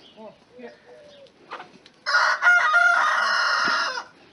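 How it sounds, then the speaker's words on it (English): A flock of hens without a rooster clucks and squawks close by, first in scattered calls, then in a loud, sustained burst of overlapping cackling before it fades away. "That's a bunch of chickens."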